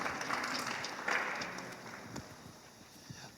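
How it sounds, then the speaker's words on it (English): A youth conference audience gives a round of applause for Group A, a moderate wash of clapping that gradually fades over a few seconds. "Let's give a round of applause to Group A"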